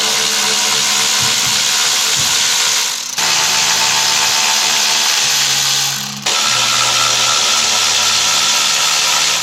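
A power tool removes the 8 mm throttle body bolts, giving three loud, sustained whirring runs, each cut off abruptly, close-up with no talking.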